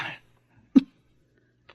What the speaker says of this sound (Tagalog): Normal na ubo lang to.